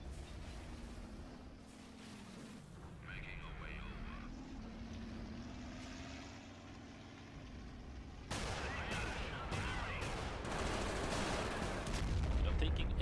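Enemy flak and artillery fire in the World War II strategy game Company of Heroes, with continuous rumbling battle noise and bursts of gunfire that grow louder and denser toward the end.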